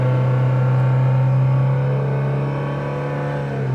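A 2006 Nissan Altima engine holds a steady, loud low hum under hard acceleration, droning evenly at close range with only a slight dip in level toward the end.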